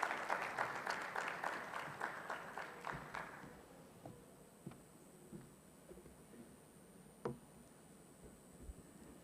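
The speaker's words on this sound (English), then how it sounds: "Let's welcome Alida Ngwije with a big hand of applause." Applause at a 2022 health research and policy symposium welcomes a speaker. Distant, fairly faint clapping lasts about four seconds, then gives way to near quiet with a few isolated taps and room noise.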